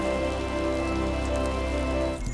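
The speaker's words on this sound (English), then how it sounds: "That rain sound is very obnoxious." Rain in the video game Returnal pours as a loud, steady, dense hiss and patter that holds unbroken throughout, ending abruptly, with no voices.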